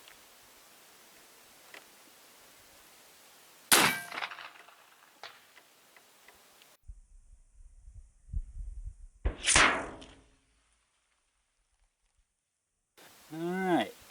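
Three sharp report-like bursts from an AEA Zeus .58 caliber air rifle firing 475 grain hollow point slugs at a 300-yard target, loud and abrupt against quiet outdoor background, with a fainter click between them.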